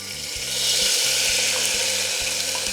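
Masala is added to ginger and garlic already frying in a pan for a traditional sandge curry. A dense, fairly loud sizzle swells and then holds steady under a faint low hum, with no talking.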